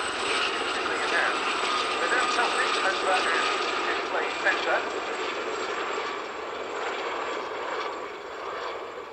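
Gazelle helicopters fly a display at the RAF Cosford air show, a steady broad rotor and engine roar that holds loud and constant throughout, easing slightly toward the end.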